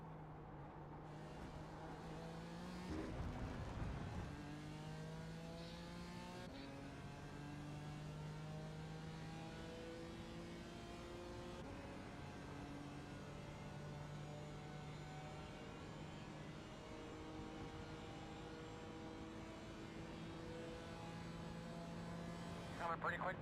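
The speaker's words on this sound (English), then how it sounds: "2 Porsche Cups coming up on you" Porsche Cup race cars on track at VIR, steady engine drone with rising and falling harmonic pitch as the cars approach and rev, a brief louder burst near the start, fairly distant and continuous.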